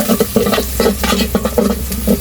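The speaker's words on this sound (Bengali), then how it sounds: "পেঁয়াজটা ভাজা লইতেছি" Onions frying in a pan for a bhorta dish, loud close sizzling broken by quick rhythmic scrapes and stirs of a spatula, several strokes in about two seconds with no speech.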